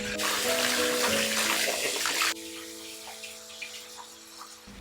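Shishito peppers, about a pound, rinsed under running tap water in a sink, a steady close splash and hiss that drops to a softer trickle partway through, with no voices.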